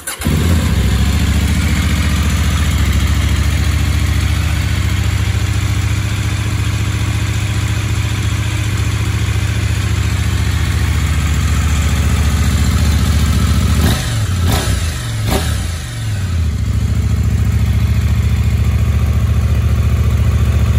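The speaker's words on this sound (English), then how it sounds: "Wings exhaust on an 890, ready to go." Close, loud idle from a 2021 KTM 890 Adventure R with a Wings aftermarket exhaust, a steady throbbing rumble broken by a couple of quick throttle blips near the end before settling back to idle.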